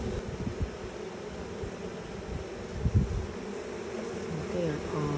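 A honeybee swarm makes a low, steady buzzing drone at moderate distance, with occasional rustling and faint voices in the background.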